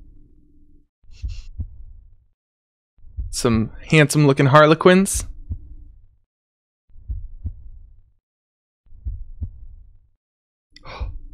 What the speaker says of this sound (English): Oh, we got some heartbeat noises.